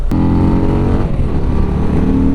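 Harley-Davidson Low Rider ST motorcycle ridden through town, its engine a loud, close, continuous rumble with steady harmonics that shifts in pitch as the rider changes speed.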